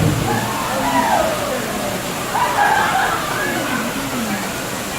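Icy cold water dumped and sloshing onto a person, a steady wet splashing wash with swells of pouring, with voices underneath throughout.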